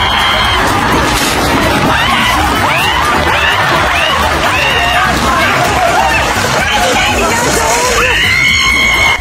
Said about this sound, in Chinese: 然后是糊一脸的爆竹